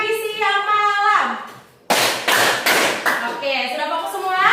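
A class of students claps out a rhythm pattern together on the teacher's call: a brief pause, then four strong, evenly spaced bursts of group clapping, followed by the teacher's voice.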